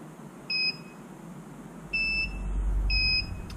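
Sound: three beeps from Lawnba robot lawn mower and charge station pairing

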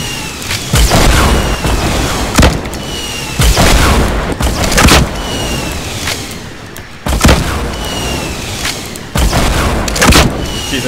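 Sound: rocket explosions in Fortnite video game

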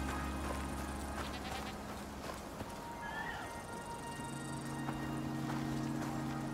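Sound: goat bleating in the video game Icarus

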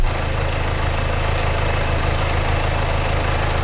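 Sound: Land Rover Discovery Sport 2.0 TD4 engine idling

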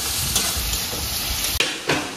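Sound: dried red chillies frying in a pan

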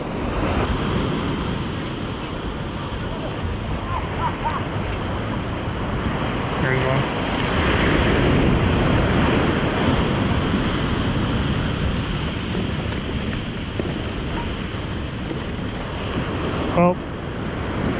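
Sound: ocean waves breaking on the California coast

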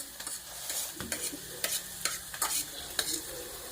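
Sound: onions frying in a pan

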